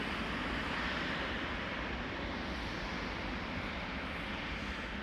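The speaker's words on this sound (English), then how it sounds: "There's the A340 600." Airbus A340-600 jet airliner near Amsterdam Schiphol, heard as a loud, steady broadband roar that fills the whole clip without letting up, with no voices over it.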